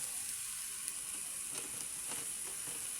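Kangkong leaves dropped into a hot pan of adobo, a steady moderate sizzle and hiss running throughout with faint stirring scrapes, no voices.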